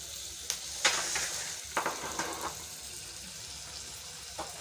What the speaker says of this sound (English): so I'm adding ginger now so that I can cook a little